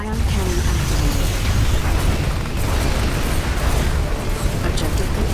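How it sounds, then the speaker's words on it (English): A heavy, sustained explosive roar fills the whole stretch, a dense rumbling blast of an ion cannon strike in Command and Conquer 3: Tiberium Wars. "Ion cannon activated."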